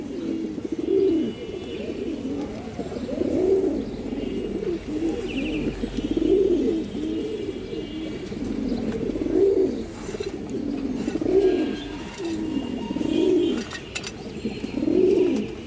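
A pair of silver bezi pigeons coos close by, a steady series of soft throaty rolling coos repeating roughly every second or two with no talk.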